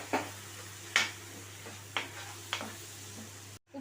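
Ginger garlic paste and masala frying in a pan as ground tomato goes in, giving a low steady sizzle broken by about five sharp stirring scrapes spaced roughly half a second to a second apart, then a brief cutoff near the end.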